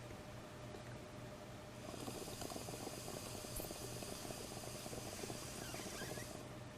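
Air bubbles through lime water in a test tube, a steady bubbling and fizzing churn that grows busier after the first two seconds and runs on alone until the end.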